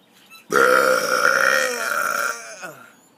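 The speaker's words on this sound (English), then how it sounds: "Rate this next burp, not that one I just did." One loud, sustained burp with a sudden start, holding strong for nearly two seconds before tapering off, heard alone and close up.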